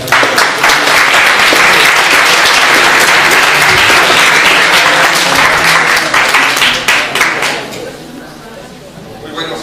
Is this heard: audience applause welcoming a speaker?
yes